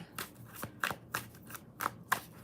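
Tarot cards shuffled in a series of about six short riffling bursts, each a crisp papery flutter with a slap at the end, close and fairly quiet with no talking.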